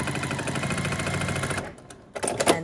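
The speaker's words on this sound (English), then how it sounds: "And we're gonna sew those two together." A sewing machine stitches quilt block pieces together in a fast, even mechanical whir for about a second and a half, then stops, followed by a few fabric handling clicks.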